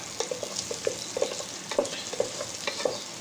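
Slit green chilies added to chicken biryani sizzling in a pan, with a steady crackle and regular scraping stirs of a spoon, close and clear, no talk.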